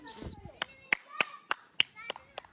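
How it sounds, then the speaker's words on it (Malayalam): Several slow, spaced single claps from a few people cheering on players at a family Onam celebration game, crisp and close, after a brief high squeal at the start. "കൈയടിച്ച് പ്രോത്സാഹിപ്പിക്കൂ."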